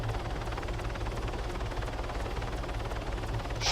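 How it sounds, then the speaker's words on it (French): Helicopters circle over a city in a video game, a steady rapid rotor chop throbbing continuously at moderate loudness with no voices over it. "continuez à tourner les hélicos autour de la ville"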